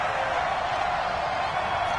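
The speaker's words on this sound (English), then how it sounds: "3rd and 4, and this crowd urging on their defense." A stadium crowd in Madden NFL 20 roars steadily during a third-down play, with a dense, even wash of cheering noise that holds at a constant level throughout.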